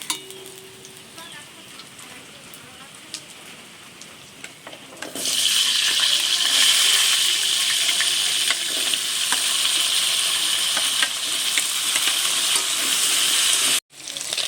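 Potatoes fry in a kadai (wok) over a fish-and-potato mustard curry, a quiet background giving way after about five seconds to a loud, steady, dense sizzle that holds without pause until a brief dropout near the end.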